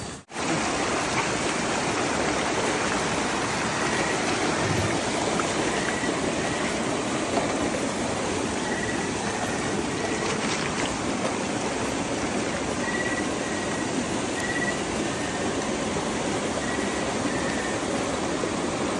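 Strong water rushing steadily and loudly, as from a stream or falls, heard during an outdoor trek to catch bullfrogs, a continuous broadband roar with no talk.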